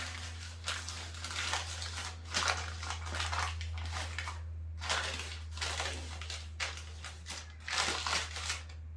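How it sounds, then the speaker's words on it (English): A peel-and-stick tile has its backing pulled away in a series of soft crackling, ripping bursts over a steady low hum, fairly quiet and close. "And now we're just going to peel off the backing."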